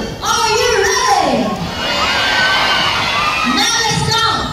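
A crowd of children shouts and cheers at a sea lion show, with loud rising whoops in two big swells separated by a brief lull, and a host's voice heard between them.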